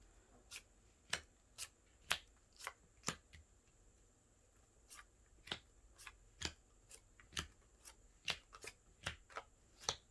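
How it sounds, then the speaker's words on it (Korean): Tarot cards handled and laid out one by one on a table: a run of about twenty crisp, close snaps and flicks in an uneven rhythm, with quiet pauses between them and no talking. "이렇게 제가 12개의 카드를 나열했습니다"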